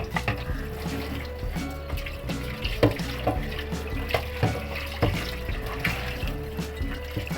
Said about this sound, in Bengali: ভালো করে পানি ছাড়ে একটু